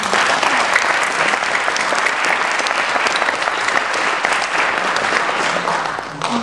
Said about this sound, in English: another round of applause for the film?